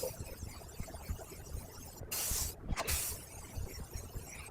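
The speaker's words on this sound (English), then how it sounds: "I'm going to use that same enamel spray paint." Two short bursts of aerosol spray hiss, about a second in total, against a quiet background with faint handling noises.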